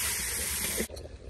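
Chicken pieces hit a hot pan of fried onions with a loud, steady sizzling hiss that cuts off abruptly near the end, leaving quieter crackling.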